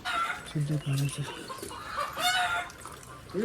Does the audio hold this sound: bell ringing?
no